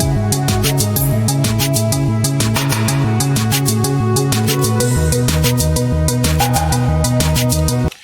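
Layered synthesizer parts built in FL Studio with Serum play together in a dense electronic groove, with pulsing bass chords, bright repeated hits and a steady beat running loud for about eight seconds before cutting off.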